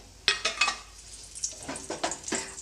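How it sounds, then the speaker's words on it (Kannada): Whole spices such as cardamom, cloves, cinnamon, star anise and a bay leaf fry in hot oil in a pan, giving a close sizzle with scattered crackles and light stirring scrapes, no speech. "ಮಸಾಲೆ ಎಣ್ಣೆಯಲ್ಲಿ ಸ್ವಲ್ಪ ಫ್ರೈ ಆಗ್ತಾ ಇದ್ದಾಗೆ"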